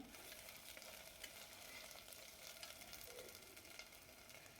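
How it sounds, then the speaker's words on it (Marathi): Green chili and garlic paste with a little mustard seed sautés in a pan, a steady close sizzle with occasional stirring scrapes, no voices. "आपण पेस्ट केलेली हिरवी मिरची आणि लसूण छान परतू द्यायचं"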